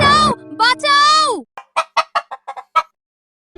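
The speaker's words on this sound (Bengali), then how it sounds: "মা মুরগি বুঝতে পেরে জোরে চিৎকার করলো, কুট কুট, বাঁচাও বাঁচাও।" A cartoon mother hen calls out loudly, with a few long, drawn-out squawks followed by a quick run of sharp, rapid clucks.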